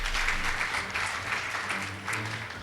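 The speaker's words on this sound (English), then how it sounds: "Please give them a round of applause" Audience applause for school debate teams at a results announcement, a steady wash of clapping sustained for a few seconds at moderate loudness, with a faint voice beneath.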